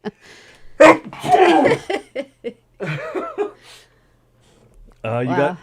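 A sharp sneeze bursts out near the mic among casual talk and light laughter at a comedy show, with brief pauses between the voices.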